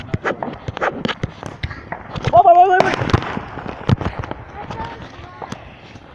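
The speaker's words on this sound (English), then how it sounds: "I'm counting how many people that's doing fireworks." Fourth of July fireworks and firecrackers pop in sharp scattered bursts, some near and some farther off, while people talk and call out over them.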